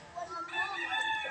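A rooster crows once, a drawn-out, rising call, fairly close and clear against a quiet background.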